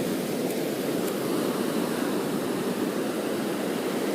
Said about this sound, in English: It's kind of a bigger wave.